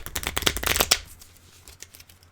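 A deck of cards is shuffled during a Marvel Champions card game, a quick burst of riffling flutter lasting under a second, followed by faint handling noise.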